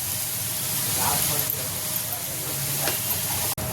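Onion and tomato frying in a pan with a little salt, giving a steady, close hiss and sizzle throughout while a voice talks faintly over it.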